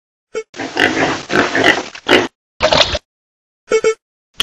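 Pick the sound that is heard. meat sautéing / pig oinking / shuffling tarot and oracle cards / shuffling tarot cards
pig oinking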